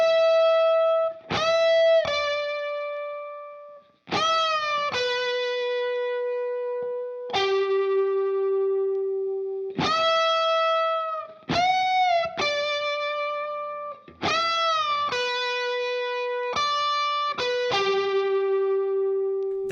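Electric guitar playing the alternating two-part solo from a song, with effects and distortion: bright sustained bent notes in short repeating phrases, clear and alone.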